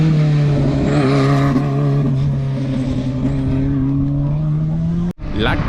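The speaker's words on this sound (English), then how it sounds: "The historical class is full of unique cars, and this is yellow Renault 5 Turbo." A yellow Renault 5 Turbo historic rally car drives by on a wet special stage at the Ypres Rally, its engine droning loud and steady for about five seconds before cutting off abruptly.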